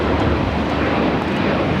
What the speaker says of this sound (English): This is Spirit Airlines 2597 taking off to Baltimore on the A321